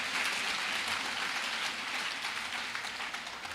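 Church congregation applauding for Mama Saimo at a Sunday service, a dense steady wash of many hands clapping that holds evenly throughout.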